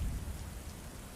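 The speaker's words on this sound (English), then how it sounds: "Rain lashed violently against the windows." Rain lashing violently against windows, a steady broadband wash of heavy rainfall with a low rumbling undertone, constant and close throughout with no voices.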